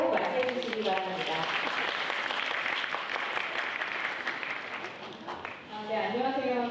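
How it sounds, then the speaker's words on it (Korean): Warm applause from an audience at a joint financial public-company recruitment briefing welcomes a KAMCO HR manager to the stage, steady clapping with faint voices at the start and end. "따뜻한 박수로 맞이해 주시기 바랍니다."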